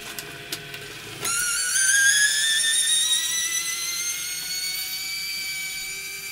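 An automatic extending chop saw station switched on by a toggle switch spins up with a sharp onset into a loud, high whining motor tone that rises and holds steady while it runs its cycle, with no talking.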